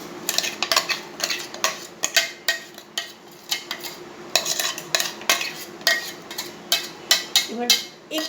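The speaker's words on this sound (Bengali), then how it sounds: "এটাকে চামচ দিয়ে ম্যারিনেশন করে নিচ্ছি" A spoon stirs a spice marinade into mutton for Bengali-style mutton kosha, making quick rhythmic clinks and scrapes against the bowl, close and fairly loud, repeating steadily throughout.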